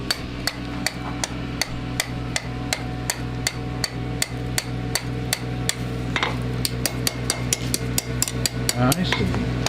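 Rapid, regular hammer blows ring sharply on hot metal at a blacksmith's forge, roughly two or three strikes per second, close and bright over a steady low hum.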